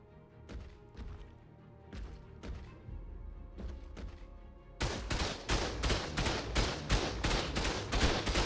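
Base turrets open fire in Ark Ascended: a few spaced shots at first, then a sudden loud, sustained stream of rapid bangs close by, with no voices.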